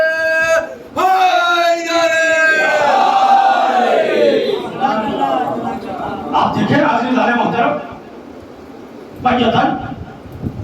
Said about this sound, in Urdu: ان کا نعرے کا جواب